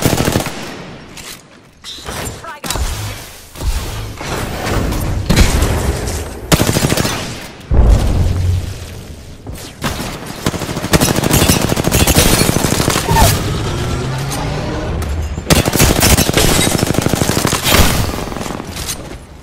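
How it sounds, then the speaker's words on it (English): Rapid automatic gunfire in a video game shooter, loud and nearly continuous bursts with brief gaps and a few booms. "I'm taking shots."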